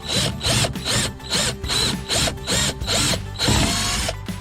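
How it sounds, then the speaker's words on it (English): A power drill whirs in repeated short bursts, about eight pulses with brief pauses between, loud and close, drilling a small hole through carpet inside a Land Rover Defender's rear door area. "Always be careful drilling through carpet because it can grip the bits and break the bits"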